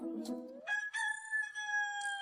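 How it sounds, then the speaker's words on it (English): A rooster crows loudly and close by in a single drawn-out cock-a-doodle-doo with a few short clucks, and no talk over it. "Chicken."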